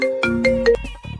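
A phone ringtone plays loud and close, a bright electronic melody of sustained tones in short repeating phrases, heard alone without talk.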